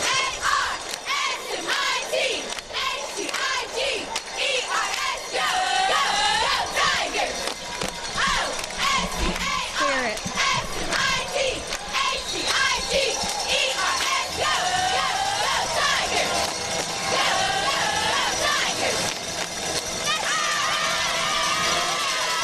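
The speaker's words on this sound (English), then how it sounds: "great cheer there from the Oscar Smith cheerleaders" Oscar Smith cheerleaders chant a loud, rhythmic cheer at a state championship high school football game, their voices ringing close and continuous with crowd noise behind them.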